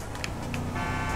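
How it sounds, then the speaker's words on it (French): Car horns toot on a road in Grand Theft Auto V, brief honks over steady traffic and engine noise, ending in a longer sustained horn tone. "tout le monde me klaxonne tout le temps. Alors moi, je klaxonne aussi pour remercier."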